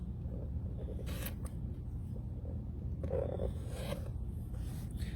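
Fabric being cut along a square kite ruler, quiet sharp snips and short scraping strokes in two brief bursts over a low background rumble, close by with no talk.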